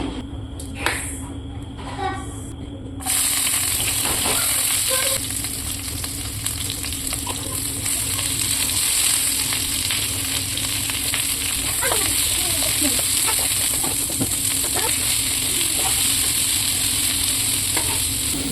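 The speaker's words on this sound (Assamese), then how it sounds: "এইখিনি বস্তু আগতে ভাজি ল'ম" Loud, steady sizzling of spices frying in a hot pan for chicken curry, starting abruptly after a few quiet seconds and continuing with light stirring scrapes.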